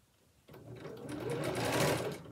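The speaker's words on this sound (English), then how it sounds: "when you're sewing the binding" A sewing machine stitches binding on a shirt cuff. After a quiet start, the motor starts up with a steady, close whirring hum that builds slightly and then continues without a break.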